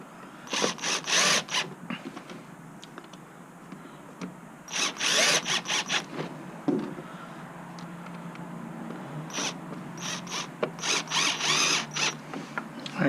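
Near, short bursts of a power driver run four screws into a sensor controller, with ratcheting clicks between the spurts and quiet pauses.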